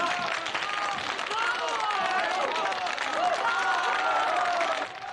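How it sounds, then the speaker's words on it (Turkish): Studio audience applauding steadily and loudly for the whole stretch, a dense wash of claps and crowd noise with some cheering mixed in, dipping slightly at the very end. "Alkışlayın bakayım."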